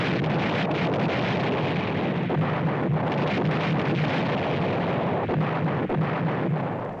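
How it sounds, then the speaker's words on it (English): Wartime bombing of China in 1939, with a dense, continuous roar of bombs exploding, heavy rumble and blasts running together loudly throughout with no clear gaps. "Day and night, the bombs continue, yet Jiang persists."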